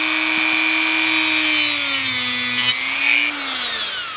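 A rotary power tool spinning at high speed while trimming a small piece for a homemade HF antenna micro-trap, a steady whining tone that dips slightly in pitch under load, loud and close, with no talking.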